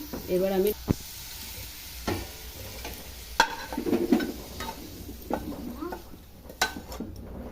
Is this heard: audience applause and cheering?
no